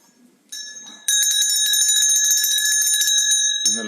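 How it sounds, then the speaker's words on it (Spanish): A bell chimes repeatedly as someone joins an online university psychology lecture, ringing loud and sustained with a steady bright tone after a brief soft start and faint background voice. "tocando la campana porque por cada campanazo entra alguien"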